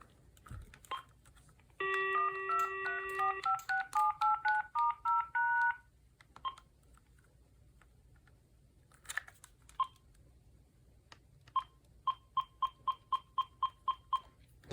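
Number keys on a VTech 5831 5.8GHz cordless phone handset sound a quick run of DTMF tones. A long steady tone is followed by a stepping sequence of beeps. After a couple of clicks, a fast even train of about ten short key beeps follows.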